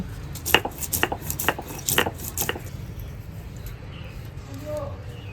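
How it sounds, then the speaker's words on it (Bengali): Mustard seeds, green chili and ginger are ground into a paste by hand with a quick run of about eight hard, rhythmic knocking strokes, then the sound fades to near quiet. "এবার সর্ষে, লঙ্কা, আদা আমি একবারই বেটে নেব"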